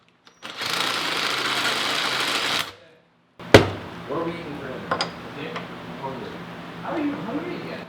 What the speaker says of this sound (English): I'm gonna drill this out.